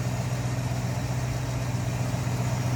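A Ford V8 in a 1964 Mercury Comet Caliente convertible idles steadily with a polished carburetor setup, a smooth continuous low rumble heard close and alone at a moderate level.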